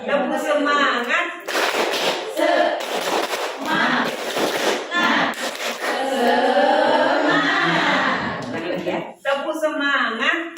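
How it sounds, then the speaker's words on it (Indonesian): Teachers in a training session perform a rhythmic group clapping chant, with bursts of patterned hand claps alternating with spoken and chanted voices throughout. "sebelumnya tepuk semangat dulu Bapak Ibu"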